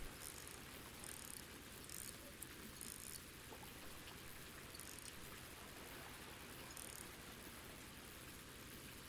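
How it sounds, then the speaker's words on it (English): Steady rain hissing in Ultimate Fishing Simulator while out fishing on the water, a continuous soft patter that holds level throughout with no talking. "we actually got some rain coming in now"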